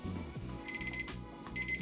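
A kitchen timer alarm sounds while eggs boil, repeated rapid electronic beeping in bursts with a pause between, loud and close over a low rumbling background.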